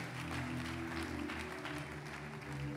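A church congregation applauds in steady, dense clapping that holds throughout, with a low musical hum sustained underneath.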